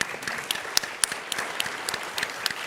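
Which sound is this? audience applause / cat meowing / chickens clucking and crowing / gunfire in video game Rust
audience applause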